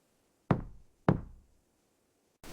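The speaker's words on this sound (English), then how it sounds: "I knocked again." Two sharp knocks on a front door, about half a second apart, close and loud in an otherwise quiet setting, followed by the onset of another sound at the end.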